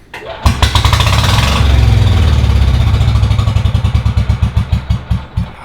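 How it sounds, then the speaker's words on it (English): A noisy 1996 Yamaha G14 gas golf cart engine with a broken muffler, revving loud and raspy up close, then settling into a rapid, clattering putter. "here we have a 1996 Yamaha G14. The complaint with this one is that it was noisy."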